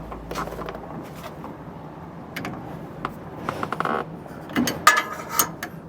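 A 7/8 wrench snugs down a jam nut on a Roadmaster Exact Center steering stabilizer. Sparse, light metallic clicks and ratcheting taps come in scattered bursts, clustering near the end over a quiet background.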